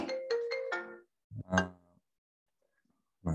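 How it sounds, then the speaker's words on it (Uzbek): A mobile phone ringtone plays a short melodic phrase, close and clear, then a second burst and a brief start of another after a pause of silence. "telefon ham jiringlab qoldi"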